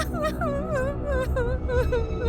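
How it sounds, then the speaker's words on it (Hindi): Sound effect of a woman crying helplessly: a wavering, sobbing wail rises and falls continuously, close and fairly loud, with no other voices. "एक महिला के असहाय रोने की आवाज सुनाई दी।"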